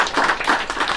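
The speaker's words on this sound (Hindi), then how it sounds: "तालियां जोर दो यार" An audience at a presentation claps together in a brief, dense burst of applause.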